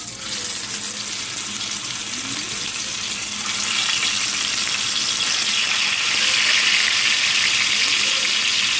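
Oxtail pieces laid in a single layer into a pot of hot oil for Jamaican oxtail, a loud broad sizzle that swells and grows stronger partway through.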